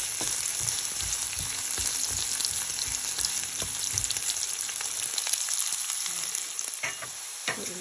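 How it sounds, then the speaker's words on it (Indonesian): Garlic and onion fry in a pan for chicken curry, a bright, crackling sizzle with bursts of stirring scrapes and clinks, fairly close and loud, with no one speaking. "lagay na natin itong bawang at sibuyas"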